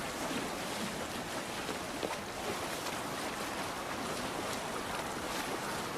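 A Viking longship in Assassin's Creed Valhalla sails across open water, with a steady broadband wash of waves and wind rushing past the hull, constant and fairly loud with no voices.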